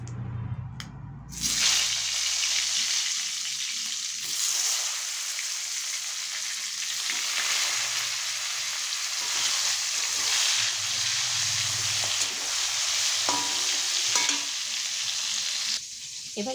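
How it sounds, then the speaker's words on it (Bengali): Brinjal pieces frying in hot oil give a loud, continuous sizzle and crackle that holds steady from start to finish, with an occasional faint stir or clink and no talking. "এবার এই তেলের মধ্যে বেগুনগুলোকে আমি ভেজে নেব"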